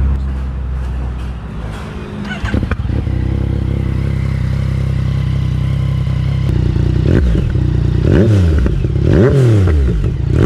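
Motorcycle fitted with a Scorpion exhaust idling loudly and close, then blipped through several rising and falling revs near the end, with some clattery mechanical noise and no talk.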